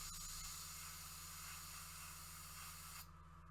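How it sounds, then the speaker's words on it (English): An airbrush sprays paint onto a Sons of Horus Land Raider model tank for Legions Imperialis, a steady, soft, close hiss that continues without a break and drops slightly near the end. "Same idea, spraying towards the front of the tank."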